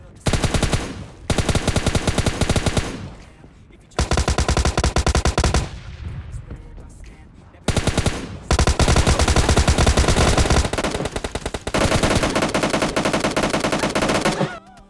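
Heavy automatic gunfire in PUBG Mobile Lite comes in long sustained bursts separated by short gaps, loud and close, with a quiet lull in the middle.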